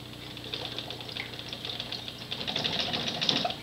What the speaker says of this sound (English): Sorry, the fogger's screwing with me a little bit.